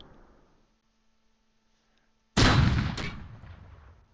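Anti-tank gun in the WWII strategy game Close Combat, set on the Fontenay-Caen road: after near silence, one loud, sharp blast fires and then rolls off into a long booming decay.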